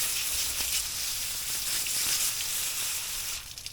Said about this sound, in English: wash this ginger off